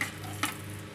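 Raisins sizzling as they roast in desi ghee for lauki halwa, a steady close frying hiss with a brief stir or clink partway through.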